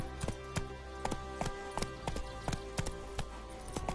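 Roach the horse trots in The Witcher 3 video game, a steady rhythmic clip-clop of hooves close by, regular evenly spaced beats over a faint ambient hum, no talking.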